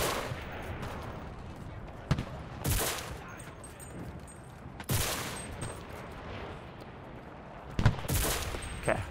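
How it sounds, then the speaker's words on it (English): Gunfire from a World War II battle in the Enlisted video game, with bursts of light machine gun fire among scattered rifle shots and distant booms over steady battlefield noise. "It sounds like there's an LMG."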